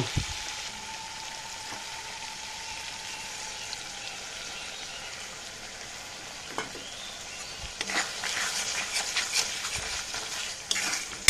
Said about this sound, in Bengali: ভালো করে আরও 2 মিনিট আমি কষবো।